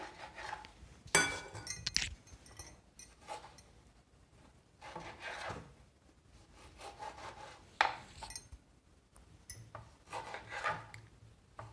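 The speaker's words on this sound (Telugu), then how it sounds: "ముందుగా మనం టమాటోని నాలుగు ముక్కలుగా కట్ చేసుకోవాలి" Tomatoes are cut into quarters with a knife on a board for rasam, producing quiet, irregular scraping and chopping strokes separated by short pauses in an otherwise quiet kitchen.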